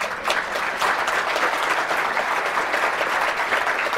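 Audience applause at a keynote of the Maryland OER Summit, a sustained wash of many hands clapping at a steady level, with no voices standing out.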